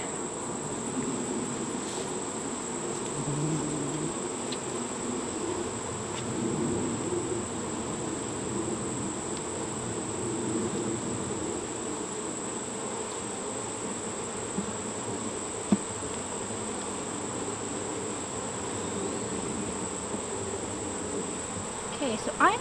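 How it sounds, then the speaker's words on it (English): Agitated honeybees buzz steadily around an opened hive during a routine inspection, a dense, continuous insect drone close by with a constant high whine overhead and no talk. "we have some bees that are not very happy"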